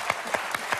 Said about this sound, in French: On a applaudi votre maman.